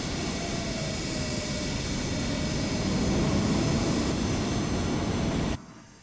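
An MD-82 jet airliner in Microsoft Flight Simulator roars with a steady, loud engine drone and broadband rush, then cuts sharply quieter near the end.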